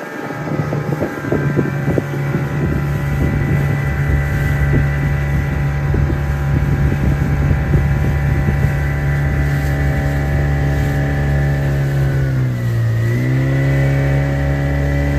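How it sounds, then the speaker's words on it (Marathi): A motorboat cruises along Gaimukh creek in Thane, its engine humming loud and steady with wind buffeting the microphone, the pitch dipping briefly as the throttle eases near the end. "पंधरा मिनिटाच्या बोट राईडनंतर आता बोट परतीच्या प्रवासाकडे लागली"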